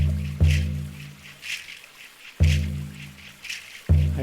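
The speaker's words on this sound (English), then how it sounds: "And the water stream," A gentle water stream trickles softly in a loop, a quiet continuous babble under slow, booming low drum hits that land every couple of seconds.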